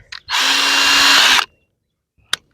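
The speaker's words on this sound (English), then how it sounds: "We're going to take our drill bit out" A cordless power drill whirs in one steady burst of just over a second while Renogy solar panels are mounted on an RV motorhome roof, loud and close, followed by silence and a single sharp click.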